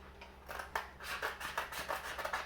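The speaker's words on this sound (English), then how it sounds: "now I have to cut just another strip here" Scissors snip through a strip of skateboard grip tape in a quick series of close, gritty cuts, each stroke a short rasping crunch, heard alone with no talking.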